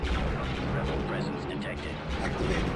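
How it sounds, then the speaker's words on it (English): Artillery salvo in a space strategy video game, a dense sustained roar of heavy gunfire that rumbles continuously under a voice. "Full salvo!"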